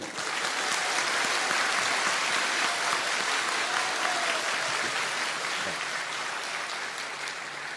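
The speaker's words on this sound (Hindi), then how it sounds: "इन तीनों मुस्लिम भाइयों के लिए जोरदार ताली।" A crowd claps loudly and steadily for three Muslim pilgrims at a spiritual gathering, dense continuous applause that slowly fades toward the end.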